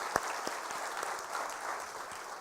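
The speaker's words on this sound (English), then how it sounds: "So please, a round of applause for Levi." An audience applauds steadily for Levi at the close of an evening talk event, a dense even wash of clapping held for the full length at moderate level, with one sharper clap standing out near the start.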